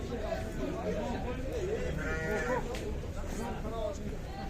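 Sheep and other livestock call amid a busy crowd at the Sokuluk animal market, with a low moo-like bleat standing out over constant chatter and people talking nearby.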